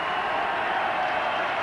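Broad, steady crowd noise with scattered clapping from a large gathering at a Widnes v Halifax rugby league match in 1992, distant and continuous.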